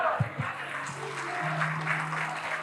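A church congregation claps in a broad, steady wash of applause, fairly soft, with a low voice murmuring briefly underneath.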